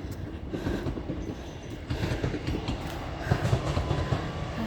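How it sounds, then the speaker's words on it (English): A local train rolls past on an autumn walk, its wheels clattering in an irregular clickety-clack over the rails, fairly faint and at a middle distance, with a low rumble underneath and no voices. "Oh, and here's the train coming."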